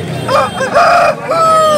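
An aseel rooster crows loudly and close at a busy Nellore chicken market, a drawn-out call in two parts with other fowl clucking faintly behind it.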